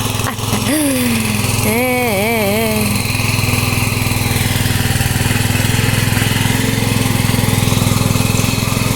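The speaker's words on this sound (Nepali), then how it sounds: "यो मेसिन स्टार्ट गर्न हुँदै नभएर हेमन्त भाइले बोलाएको" A farm tiller engine runs steadily and close by, a constant mechanical drone, with a brief rising and falling voice-like tone over it early on.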